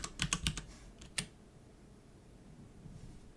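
Someone types commands on a computer keyboard during a PC setup, with a quick flurry of close key clicks followed by a few isolated taps and then quiet.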